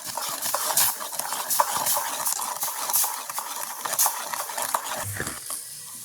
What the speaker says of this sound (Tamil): அப்படியே கிண்டு கொண்டே இருப்பேன்